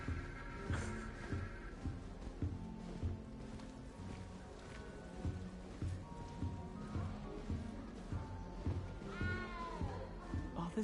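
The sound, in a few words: cat meowing in Hogwarts Legacy video game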